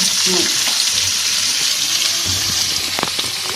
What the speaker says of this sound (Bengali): এবার পেঁয়াজটা ভাজা ভাজা করে নিতে হবে